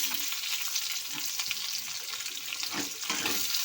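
Chopped onion frying in hot oil in a pan while cooking a spicy katla fish curry, giving a steady close sizzle with faint stirring scrapes throughout.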